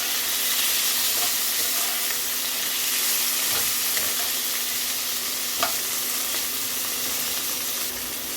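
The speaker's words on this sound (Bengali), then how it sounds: "এবার এগুলোকে আমি ভালো করে ভাজা করে নিচ্ছি" Peas and tomato frying in a pan for a fish curry with potato and lentil dumplings, a steady broad sizzle with occasional stirring scrapes and clicks, close and continuous throughout.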